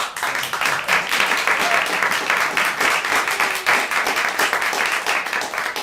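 An audience claps steadily for a singer at an evening performance, a dense sustained applause of many hands filling the room throughout.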